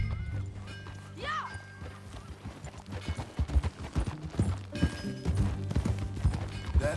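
Horse hooves clip-clop in a steady riding rhythm in Red Dead Redemption 2, with a whinny early on and the hoofbeats growing louder and busier as the ride continues.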